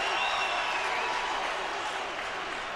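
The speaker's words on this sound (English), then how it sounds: "Crowd is back into it." A stadium crowd cheers at an NFL game between the Green Bay Packers and the Chicago Bears, a loud, steady roar of massed voices that fills the whole stretch without a break.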